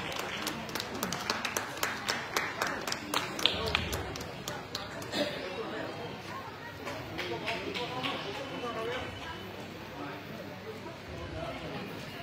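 Applause and clapping from an audience honouring Anu Kumari at the City Live channel's 13th foundation day and Dhanbad Utsav Season 6 event in Dhanbad, a dense, lively patter of hands with sharp taps, mixed with crowd noise and background talk.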